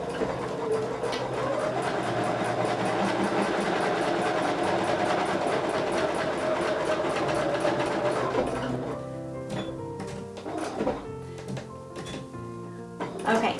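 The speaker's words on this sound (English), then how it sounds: "we're going to stitch right here" A sewing machine stitching the binding corner of a quilt, with a fast steady mechanical whir and clatter for about eight seconds, then stopping to a few clicks and handling noises.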